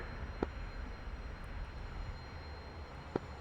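Aircraft climbing after takeoff, a steady broadband engine roar heard from inside the cockpit at moderate level, with two brief clicks standing out over the constant drone.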